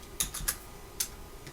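A few sharp keystrokes tapped on a computer keyboard, four quiet clicks spaced irregularly over a soft room hum, with no talking.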